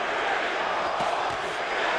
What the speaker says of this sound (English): Crowd chanting holy, holy, holy.